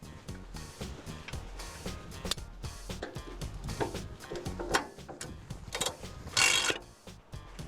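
A Terrain Tamer 4WD lift jack is pumped by its handle against a vehicle's bull bar, giving a run of close metallic ratcheting clicks and clunks in an uneven rhythm, with no talking.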